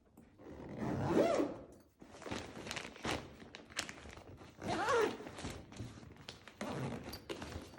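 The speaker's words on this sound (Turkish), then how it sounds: "Şimdi fermuarını çekeceğim." A zipper is pulled closed on a fabric shoe storage bag packed with six pairs of shoes, heard as two close rasping runs amid handling rustles and soft thumps, with no voices.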